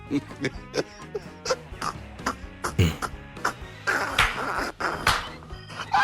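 A dog gives a series of short, rough barks and growly yips at close range, irregular and repeated, with people talking in the background.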